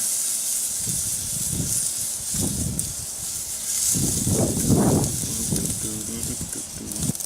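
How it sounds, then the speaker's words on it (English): A steak sears on a Big Green Egg grill fired to about 650 degrees, a loud, steady sizzling hiss running throughout while someone talks over it. "With the egg fired up to around 650 degrees, it's time to sear the steak"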